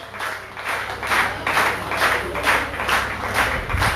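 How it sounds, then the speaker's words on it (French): Audience clapping at an outdoor family celebration held by a municipal social services office in Le Robert, with steady, slightly rhythmic applause swelling in waves from a moderate distance, no voices. "Alors regardez, on applaudit encore bien fort."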